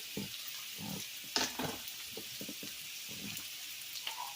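Half of a large white onion hits a hot pan with carrots already cooking for lentil soup, giving a soft, steady sizzle with a few louder crackles and spatters, moderately close and heard alone.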